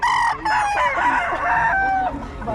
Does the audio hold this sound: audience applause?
no